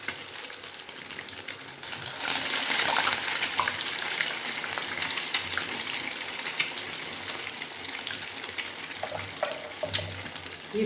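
Egg-dipped bread, made with an egg and milk batter, frying in a pan: a steady close sizzle with crackling oil that swells and stays busy throughout, with no voices.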